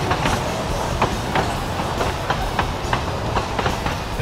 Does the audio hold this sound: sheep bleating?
no